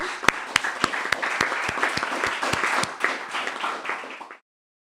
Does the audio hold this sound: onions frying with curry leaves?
no